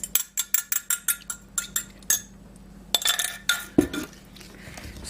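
A metal spoon scraping and clinking rhythmically against a pot of canned tomato soup, about a dozen quick strokes, then a pause and a few louder, irregular clanks and stirs, with no voices.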